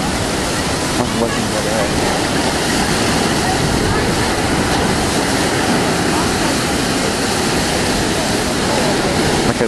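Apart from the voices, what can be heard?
rough sea waves crashing at high tide in Brighton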